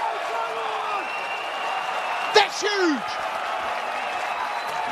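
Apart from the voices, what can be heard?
rugby match crowd cheering and applauding a try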